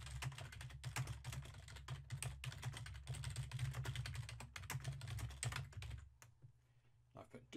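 Fingers type an email subject on a computer keyboard in a continuous run of close clicks that stops near the end, with low background hum.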